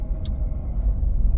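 Steady low rumble of road traffic at a busy intersection, heard from inside a car, with a brief sharp hiss early on and no talking.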